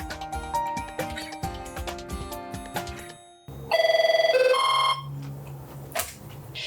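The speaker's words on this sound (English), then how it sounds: "phone hasn't stopped ringing with just hours before polls close" Telephone in a county clerk's election office rings with a sustained electronic warble, loud and steady, after a stretch of busy music and before a few scattered tones.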